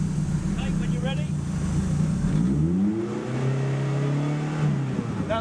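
Turbocharged 2-litre Z-Tech race car engine revved for a noise test, a loud close roar that climbs in pitch, holds at a high steady rev, then drops back to idle.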